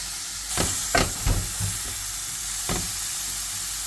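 Food heating in a pan gives a steady sizzle, broken by a few sharp clatters and stirring scrapes near the start and once more later.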